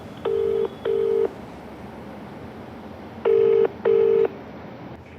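A telephone dials out with four touch-tone beeps in two quick pairs separated by a pause, clear and moderately loud over a low background hiss.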